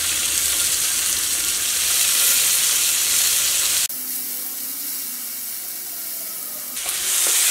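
Finely chopped tomato hits a hot pan for broken wheat upma and is stirred. A loud, close sizzle drops suddenly to a softer hiss partway through, then swells again at the end, with no one speaking.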